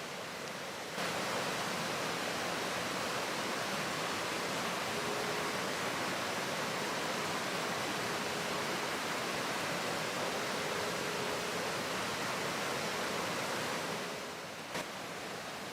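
Rushing stream water in a deep forest: a steady, broad roar of flowing water, even and unbroken for about fourteen seconds, then easing off slightly.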